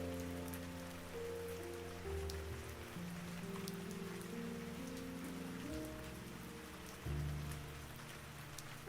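Steady rain falling on surfaces in a city, a constant soft patter and hiss throughout under a calm low musical drone, no voices.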